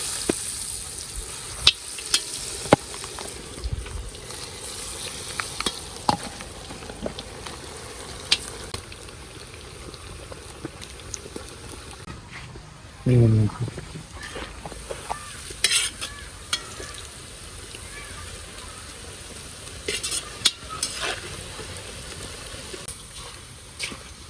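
Pieces of tender jackfruit fry in hot oil in a pan, a steady sizzle running throughout with intermittent scraping and stirring of a spatula, plus a louder clatter midway.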